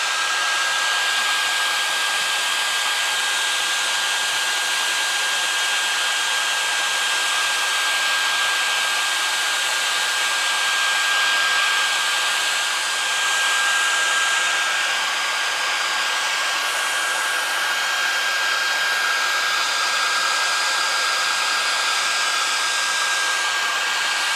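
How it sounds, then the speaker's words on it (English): A hair dryer blows continuously at a steady loud roar, close up, with no break for the whole stretch. "come back with the hairdryer"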